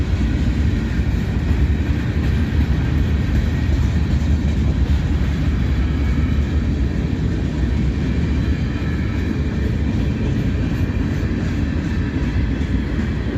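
Freight train of empty covered hopper grain cars rolling through Abbeville on a former Southern Pacific line, a loud, steady rumble and rattle of cars passing close by for the whole stretch, with no voices.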